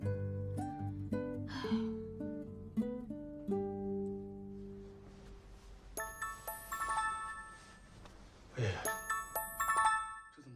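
A melodic phone ringtone chimes through a drama scene for an incoming call, bright tinkling note sequences repeating across several phrases, with soft breaths and vocal sounds between them.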